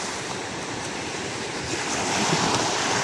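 Sea waves rolling onto the shore, a steady broadband wash with a gentle swell rising toward the end, mixed with light wind buffeting the microphone, no voices.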